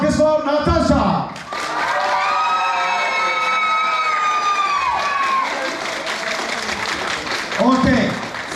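A crowd applauds a contestant at a Miss Paradiso pageant in a hotel club in Alanya, steady clapping mixed with whistles and shouts that fade, then swell again near the end.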